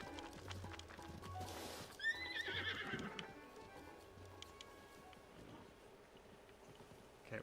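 A horse in the video game Zelda Breath of the Wild neighs once with a bright whinny amid clip-clopping hooves and game sounds, with background noise continuing afterward.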